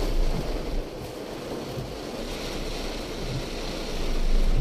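Steady roaring rush of a flooded river in heavy rain in South Gujarat, broad and continuous, with wind buffeting the microphone and swelling louder toward the end; no voices.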